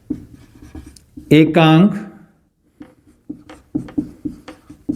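Chalk or marker scratching on a board during a physics lecture, short rapid strokes in bursts, heard close and interrupted by a voice speaking briefly.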